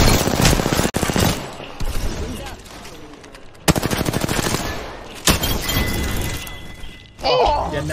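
Loud gunfire bursts and shattering impacts in the battle royale game Apex Legends, irregular shots and crashes spread across the moment, close and harsh, with quieter gaps in between.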